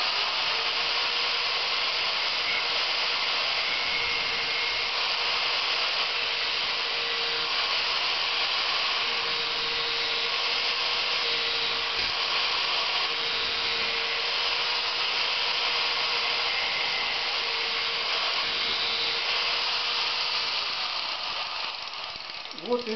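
Shredder knives for a branch, straw and hay chopper being sharpened on a running grinder, held at about 45 degrees; a steady, loud grinding whine with a continuous abrasive rasp lasts throughout, unbroken and close.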